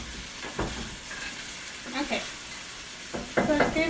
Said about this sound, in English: So just give it a little stir